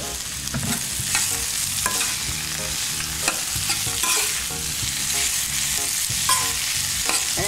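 Breakfast food is mixed in a frying pan in a Philippine home kitchen, with a constant loud sizzle and repeated close scraping strokes of the spatula throughout.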